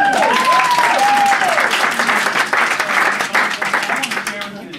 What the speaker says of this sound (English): you can sit down after you get a big round of applause